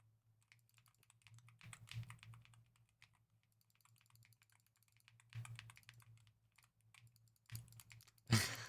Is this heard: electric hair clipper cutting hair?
no